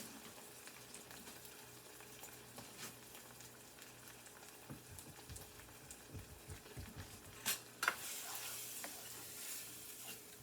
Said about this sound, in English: Now, see, I'm mixing the beans in there with it.